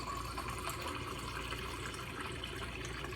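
Water pouring into a coffee percolator from a tap, a steady trickling fill heard up close and fairly quiet, with no talking.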